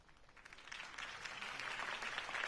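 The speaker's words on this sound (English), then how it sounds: "If only Mr. Wayne, my campaign's largest backer, could have heard that applause" Audience applause at a Harvey Dent campaign rally, a dense wash of clapping that swells steadily louder over a couple of seconds, heard at a moderate distance with no voices over it.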